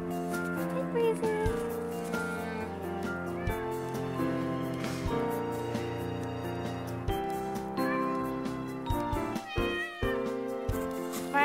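A cat meows outdoors in the snow, repeated calls over a steady, dense background of sound that stays loud throughout.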